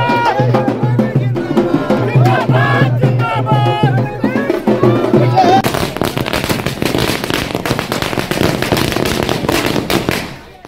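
Firecrackers and fireworks set off by JDU party workers celebrating with dhol drums. Tonal sounds fill the first half, then a loud, dense run of rapid crackling bursts takes over and continues almost to the end.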